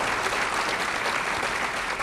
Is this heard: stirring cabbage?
no